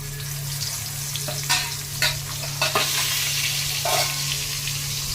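Fish sizzles steadily in a hot pan, a close, continuous frying hiss broken by a few sharp crackles and clinks of a utensil, with no talk.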